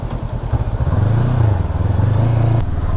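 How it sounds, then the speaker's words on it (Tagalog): A motorcycle's engine idles close by in a steady low throb, rising slightly as the bike is moved on a beach campsite at Isla Chica in Pagbilao, Quezon, with faint clatter and no talking. "Lipat ko lang yung motor ko kasi delikado."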